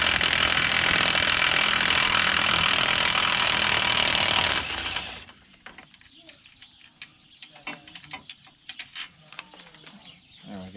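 An impact wrench removing 36mm nuts, hammering loudly and continuously for about five seconds up close, then stopping, followed by quieter scattered clinks and handling of metal parts.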